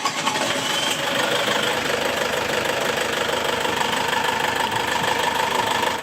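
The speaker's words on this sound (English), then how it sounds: "So they've got the engine running at the moment." A sailboat's engine runs steadily throughout, a continuous close mechanical drone with a knocking, rattling texture and no breaks.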